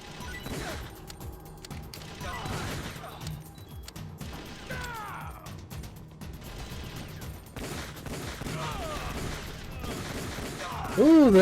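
Gunfire in the video game Metal Gear Solid: The Twin Snakes on GameCube, rapid fusillades and sharp cracks scattered through a busy action mix, with voices talking between and over the shots.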